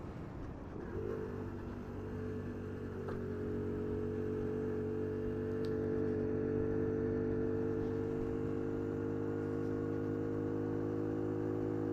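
A restricted Bullit Heritage 50cc motorcycle engine drones steadily while riding, holding a buzzing, slightly rising tone that steps to a new pitch as a gear is shifted, loud and continuous with wind rush and no talk.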